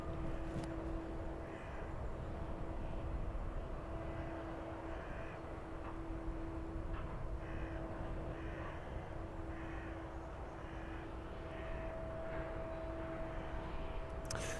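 A DHL Boeing 757 jet at an airport, its engines a distant, steady rumble with a faint sustained whine, fairly quiet and continuous, with no talk.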